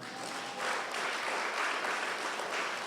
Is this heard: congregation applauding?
yes